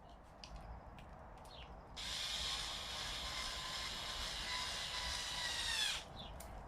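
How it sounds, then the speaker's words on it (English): A power driver spins screws into a small block of wood, one steady whirring burst of about four seconds at moderate level, with quieter handling noises before and after. "So I'm going to put 2 screws in this."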